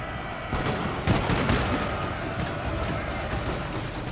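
Musket volleys crackle in a Total War Shogun 2 battle, a burst of overlapping distant shots followed by scattered pops over a busy battlefield din.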